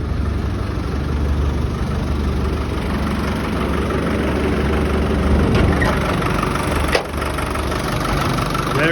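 A 1998 Land Rover Defender Wolf 90 with a 300 TDI diesel engine idles steadily up close, a loud, even low rumble with a constant mechanical clatter and a brief knock near the end.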